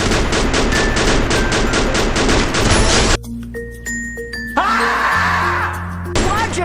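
In Free Fire, an enemy fires from up on a tower. Close, rapid bursts of gunfire fill the first three seconds, then break off into sparse game chimes and tonal beeps.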